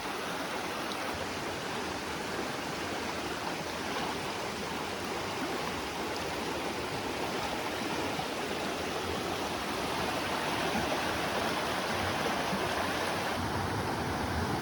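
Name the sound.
mountain stream flowing over rocks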